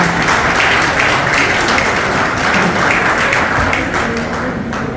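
Warm applause from the audience at a retirement ceremony for racehorse trainers, a loud, dense, continuous crowd clapping that holds steady for five seconds with no speech over it.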